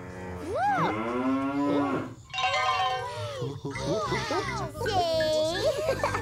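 A cow moos in a costumed children's show set in outer space, long sliding lows that sound like a voice imitating mooing, mixed with children's chatter.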